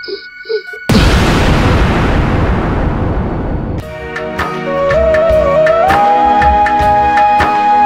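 Firecrackers burst suddenly after a brief voice, a loud, dense crackling roar lasting a few seconds in a Punjabi short film scene, then fading as music with a sustained melodic line takes over.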